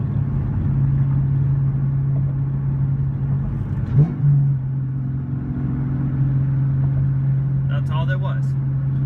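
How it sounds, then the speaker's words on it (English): A car cruising at about 45 mph downshifts into third gear, its engine hum holding steady before a brief surge around the shift and then settling at a higher pitch, with a faint clatter late on. "I'm going to downshift into third gear, so pay close attention to my RPMs."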